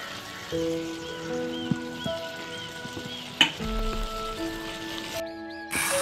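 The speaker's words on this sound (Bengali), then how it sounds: "একটু আমি তলার থেকে নেড়ে দিচ্ছি সর্ষেটা দিয়ে" Ridge gourd fritters fry in black mustard paste while being stirred in the pan. A soft, steady sizzle runs under faint background tones, broken once by a sharp clatter.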